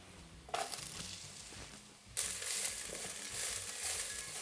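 Scallion whites and toasted star anise hit a hot pan for braised beef cheek ramen, bursting into sizzling frying in two sudden waves, then crackling steadily and close.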